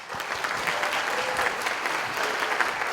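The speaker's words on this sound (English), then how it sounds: "let's give a big round of applause" Audience members at the Duke Startup Challenge grand finale give a round of applause, continuous dense clapping from a sizeable crowd at moderate loudness, sustained evenly from start to finish.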